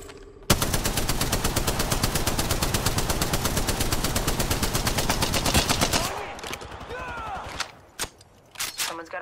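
Loud, rapid automatic gunfire in Apex Legends rattles in a dense burst for several seconds, then breaks off into scattered single shots and short gaps.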